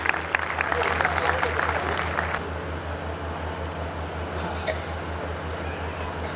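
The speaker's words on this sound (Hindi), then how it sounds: "जोरदार तालियों में खुदाम के खादिम को दावत दीजिए" Audience applause at a Christian worship evening, a burst of clapping from the crowd that fades after about two seconds, followed by a quieter hall with a low steady hum.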